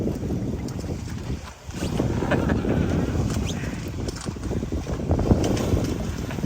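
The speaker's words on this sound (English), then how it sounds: "Now that's sailing." A sailboat running in wind off Hartlepool, heard as a constant loud rush of wind and water with buffeting across the microphone and a brief lull near the start, with no talking.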